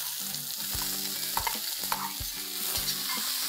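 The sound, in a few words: chopped onions frying with ginger and garlic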